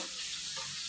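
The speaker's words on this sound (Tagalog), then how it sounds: "tamang prito-prito lang tayo ng ating carrots." Carrots sizzling in a pan of oil, a soft, close, steady frying hiss with no voices.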